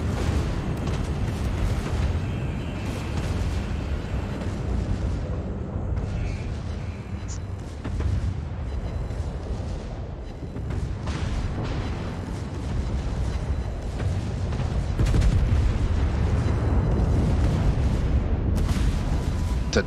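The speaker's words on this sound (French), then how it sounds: "T'as tous les tirs de mes canons secondaires là" A battleship's secondary guns in World of Warships fire in repeated booming bursts over a steady roar of battle, loud and dense for the whole stretch, with a commentator talking over it.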